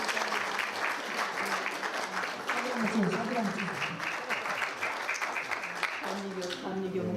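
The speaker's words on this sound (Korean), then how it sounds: "박수로 주십시오." Guests at a book launch in Toronto for a biography of Yun Chi-ho applaud as a donation is presented, with steady, close clapping and voices mixed in for about seven seconds.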